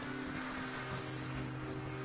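A racing video game car engine holds a steady, high droning whine at maximum revs, the tone sustained without a break and heard alone.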